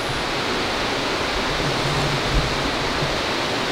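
A river rushes steadily past a swimming hole, its broadband water noise loud, close and continuous with no pauses or voices.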